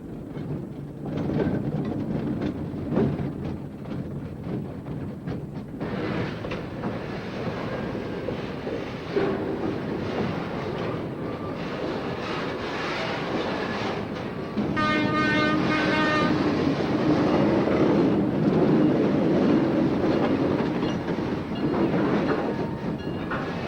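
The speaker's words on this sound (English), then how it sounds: "Most people traveling long distances do commute to and from work by train." Electric trains on a Dutch railway rumble past steadily and close, with wheel clatter swelling louder midway and a brief series of horn toots rising over the running noise.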